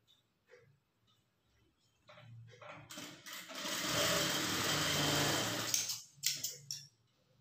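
A sewing machine stitches plain blouse fabric, whirring up into a loud continuous run for a few seconds after some quiet handling noises, then stopping with a couple of short bursts.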